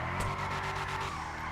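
A car drifts through a turn on a drift course, its tires letting out a loud, sustained skidding squeal over a steady engine drone, close and continuous for a brief moment.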